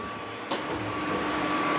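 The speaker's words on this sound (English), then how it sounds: "let's see how the secret robot vacuum cleaner testing's going. There's the Eufy X10." Eufy X10 robot vacuum cleaner running with a steady, moderately loud motor whir and broadband hiss, continuous throughout with no talk.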